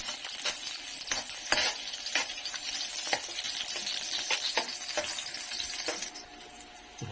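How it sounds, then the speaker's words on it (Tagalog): Crushed garlic sautéing in oil for chicken afritada, a soft continuous sizzle punctuated by frequent sharp spatula clicks and scrapes against the pan, nearby and fairly quiet. "Okay, gisa na ng garlic, no?"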